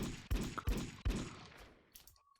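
Rifle fire in the first-person shooter Blockade 3D: a few loud, spaced shots close by, each with a short decaying tail, ending in near silence with a faint tone.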